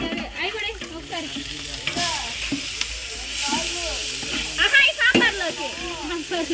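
Food fries in a pan with a steady sizzle while a utensil scrapes and stirs it in repeated strokes, close and loud, and a voice talks over the cooking.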